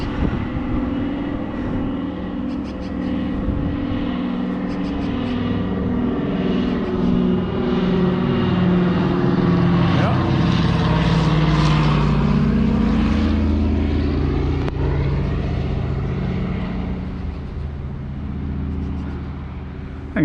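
A DC-3 propeller airplane coming in to land, its droning engines swelling from a distance to a loud, close pass with a sweeping pitch shift, then fading away.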